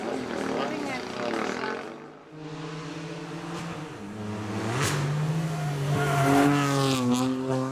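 A Kia Picanto GT-Line rally car fitted with a rally kit at the 2018 Rallye Vidreiro, its engine revving and pitching up and down throughout while a voice talks over it.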